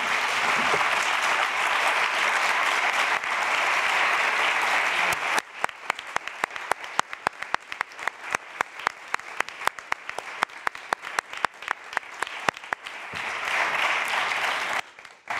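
An audience applauds expert speakers at the close of a talk, starting as a dense roar of clapping, thinning into scattered individual claps, then swelling again near the end.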